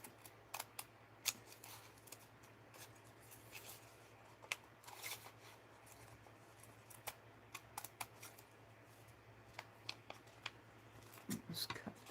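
Scissors snip through paper laid over a scrap sheet, giving a series of short, crisp, close cuts in an irregular rhythm, with quiet pauses between bursts and no talking.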